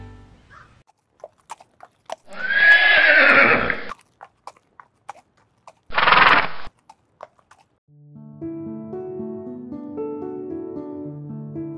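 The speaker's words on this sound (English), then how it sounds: "So let's go get Frisbee, get him ready for the farrier, and Pleasant too" Horses being readied for a farrier visit give two loud, close whinnies, separated by soft hoof clip-clops, followed by gentle background music.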